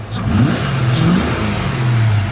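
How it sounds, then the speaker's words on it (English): A car engine with a newly replaced distributor revs up and settles from a steady idle, a close mid-pitched engine tone rising and falling twice in a brief run with no talk. "Gonna rev it up a bit."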